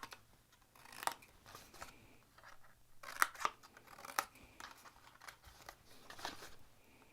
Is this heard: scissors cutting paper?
yes